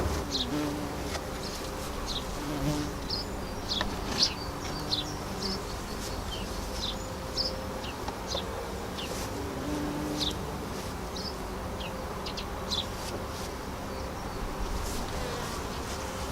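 A swarm of bees hums steadily around an open hive on a warm day, a dense continuous drone with individual insects zipping close by now and then, no talking.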